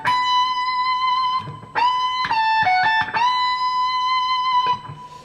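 Electric guitar plays a blues rock lick in B with string bends and vibrato, a sustained distorted tone holding long notes with a quick burst of short bent notes in the middle, loud and close with no talking.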